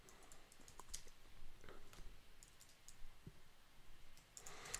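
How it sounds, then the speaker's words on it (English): Fingers tap on a computer keyboard, soft and close, in a quick irregular run of clicks, with no voice heard. "So let's type that in."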